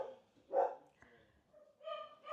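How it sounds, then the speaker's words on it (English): Dogs barking indoors in a home, a few short yelps and barks in bursts, fairly close and moderately loud, with no talk over them. "Sorry, my dogs."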